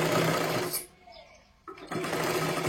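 A sewing machine runs in close, steady bursts while stitching a katori blouse, pausing briefly in the middle before the rapid mechanical whir resumes at full loudness.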